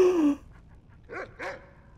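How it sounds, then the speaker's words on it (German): A dog in Skyrim gives a short whine, then two quick barks or yips about a second in, close by and clear against quiet ambience. "Ein Hundi."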